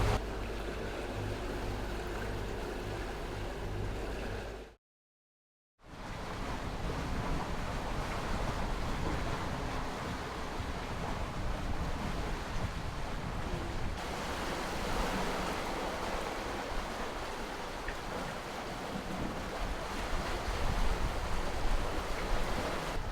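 Sailing between Tunisia and Sicily, steady wind rushes across the microphone over the broad wash of sea swells, loud and continuous apart from one brief dropout.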